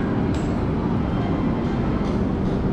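Kavi Guru Express pulling into Begusarai Junction, heard from inside as a steady, loud rumble of rolling coaches with a couple of faint high squeals over it.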